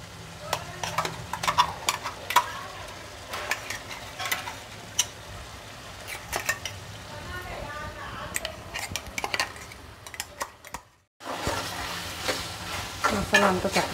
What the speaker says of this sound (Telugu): ముందు మనం మిక్సీ చేసి పెట్టుకున్నాం కదా, ఆ మసాలా వేసేసుకుంటున్నాను.